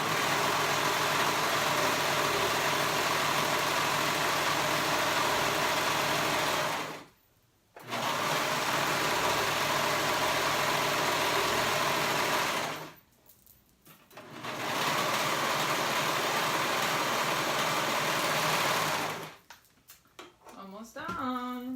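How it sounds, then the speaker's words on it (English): Sewing machine stitching the side seams of a rash guard, running in three long steady bursts of rapid mechanical whirring with brief silent pauses between them. "now I'm going to go ahead and sew those sides together"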